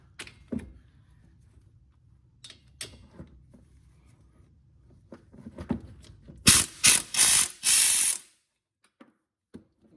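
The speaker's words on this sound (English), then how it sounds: "an impact, and this is what I'll be using" An impact wrench with a swivel socket works the front wheel hub bolts on a 2010 Town and Country. Faint handling clatter leads into four loud, rapid hammering bursts in close succession.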